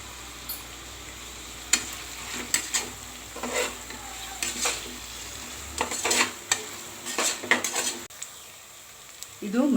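Ingredients for Hyderabadi khichdi fry in a pan with a soft continuous sizzle, while a spoon stirs and scrapes against the metal in irregular clinks and swishes.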